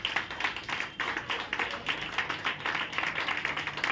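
Church congregation clapping together in steady rhythmic beats, a fairly quiet, even patter of many hands with no voices over it.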